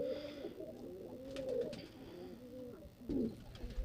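Pigeons coo in soft, repeated rolling calls, close by, with a few faint chirps and light rustling in a quiet coop.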